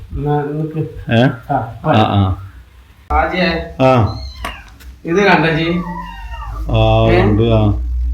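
Kittens meowing in short, repeated high cries that come and go among people talking nearby; the mews are close and fairly loud, overlapping the conversation.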